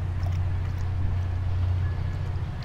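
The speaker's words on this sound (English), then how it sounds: "I hear a freight train." Freight train rumbling past at a distance, a steady low drone that holds without a break, with no talk over it.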